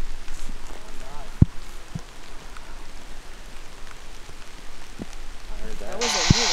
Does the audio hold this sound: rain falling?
yes